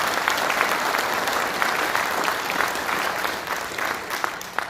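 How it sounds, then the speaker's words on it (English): An audience applauds after a student jazz concert, a dense, steady wash of clapping from a sizable crowd that holds for several seconds and fades slightly at the end. "Can you give them a round of applause, please?"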